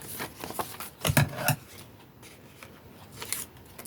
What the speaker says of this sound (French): je coupe ici